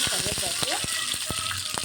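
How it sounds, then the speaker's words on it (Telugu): Mustard seeds and curry leaves splutter in hot oil, a rapid run of sharp pops and crackles over a continuous sizzle. "ఆవాలు అయితే చిటిపట్లాడుతున్నాయి"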